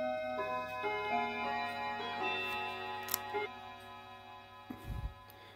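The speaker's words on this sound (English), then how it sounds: "And the chiming clock." A chiming clock ticks softly and steadily, close and quiet, with a few sharper clicks and a low thump near the end.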